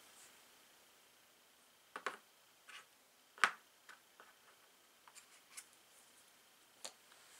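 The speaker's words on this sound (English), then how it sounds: "And she shuffles this back into the deck" Playing cards from the Cape May board game are shuffled back into a deck, giving faint scattered ticks and soft snapping clicks at close range in an otherwise quiet room.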